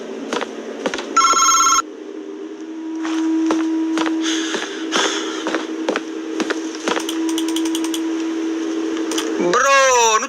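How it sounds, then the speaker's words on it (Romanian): A telephone rings in a horror video game, its electronic bell trilling in short bursts over a steady low hum, with knocks and clatters scattered throughout and a warbling sweep at the end; voices talk over it. "Sună telefonul."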